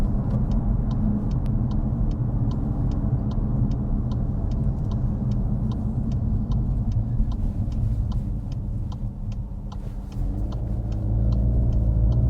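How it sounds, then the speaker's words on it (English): Exhaust from a Volkswagen Golf GTI 40th Anniversary Edition on the move, a continuous low rumble from inside the car with a regular ticking over the top and a brief dip in level near the end. "Nice sound of that exhaust."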